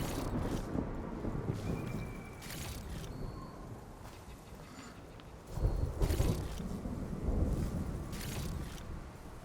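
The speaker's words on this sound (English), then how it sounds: "There's a storm coming, you can hear it." An approaching thunderstorm in the video game Horizon Forbidden West, with a steady wash of rain and wind and a deeper rumble of thunder swelling midway, continuous ambience with no talking.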